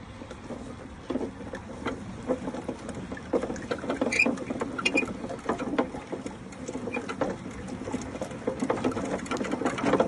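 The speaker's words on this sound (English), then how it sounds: "The sound of me painting lines." Line-marking paint sprayed onto a football pitch outdoors, a steady close hiss with soft rhythmic pattering and clicking from the marking machine, running continuously with no talking.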